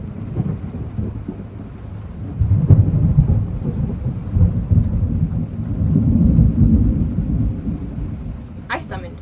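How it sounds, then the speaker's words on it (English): A thunderstorm with pouring rain rumbles around a van, heard from inside as a steady low roar with heavy rolling thunder swells and a sharp crack near the end. "When it starts pouring, the van starts shaking."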